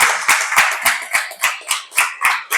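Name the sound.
congregation applause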